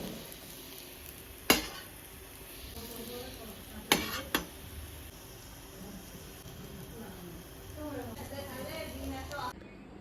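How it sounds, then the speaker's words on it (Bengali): Spice masala frying in a pan, a low steady sizzle broken by sharp clanks of a spoon against the pan, with voices talking faintly over it. "মশলাটা খুব সুন্দরভাবে কষিয়ে নিয়েছি, দেখুন লাল লাল করে"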